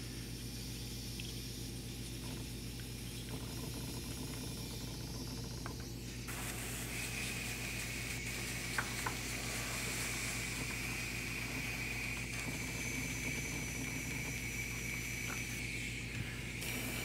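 A lightly loaded airbrush sprays paint in a quiet, steady hiss that grows brighter and stronger partway through and then keeps going, heard alone and close by.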